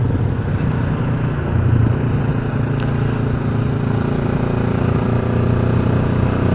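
On-board engine of a 2025 QJ Motor SRT 700 SX motorcycle in third gear, accelerating with a steady, loud drone that holds throughout and rises slightly in pitch, no voices over it.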